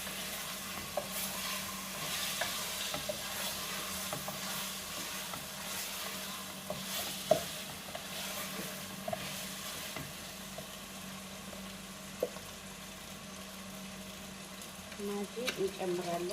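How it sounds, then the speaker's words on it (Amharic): Chicken fries in a pan as it is stirred, a steady low sizzle with occasional scrapes and clicks of the utensil, while someone talks over it throughout. "አብረን እንደዚህ ጥብስ እናደርገዋለን። ዶሮውን መጀመሪያ ማለት ነው።"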